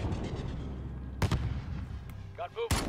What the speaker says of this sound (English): Launch a flare out there.